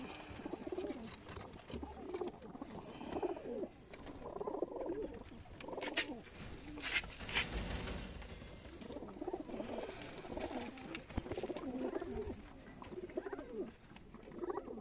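Soft, low cooing of pigeons repeating throughout, with fluttering and scratchy pattering movements close by and no talking.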